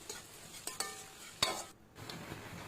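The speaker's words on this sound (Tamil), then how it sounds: "நல்லா வதக்கிட்டேன்." Masala being sautéed in a pan for chicken fried rice: a soft frying sizzle broken by a few sharp scrapes and clicks of a spatula against the pan, quiet and close.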